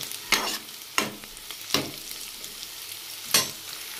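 Sliced onions for paneer masala sizzle in a pan as a spoon stirs them, with four distinct scraping strokes spaced across a soft, steady frying hiss.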